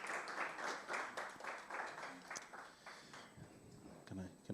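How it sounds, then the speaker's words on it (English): Brief round of audience applause at a small business-funding talk in Tembisa, scattered claps fading out toward the end, followed by faint voices. "Let's give him another round of applause."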